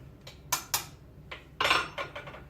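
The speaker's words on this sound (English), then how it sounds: "Give this a bit of a stir just so you can get all of the flavors of the fruit right through it" A spoon stirs a fruit drink in a glass with several bright clinks and scrapes, sounding sharp, close and isolated.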